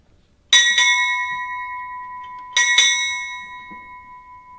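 A ship's bell rings out at a naval change of command ceremony in two quick double strikes, clear and ringing, with each pair fading before the next.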